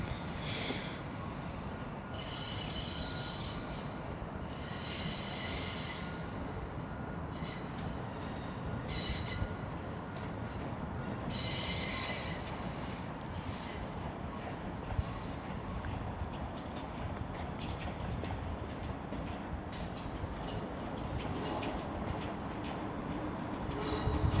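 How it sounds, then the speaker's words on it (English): A West Midlands Railway service from Walsall pulls into Wolverhampton station on the West Coast Main Line, a steady low rumble of wheels and motors with faint squeals, continuous and fairly close throughout. "now coming in will be another terminating West Midlands Railway service from Walsall"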